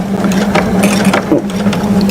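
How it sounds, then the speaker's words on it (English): A sewing machine running steadily while a zipper is being installed, a loud close mechanical whir with a constant hum and quick rhythmic ticking. "Well, it's sewing."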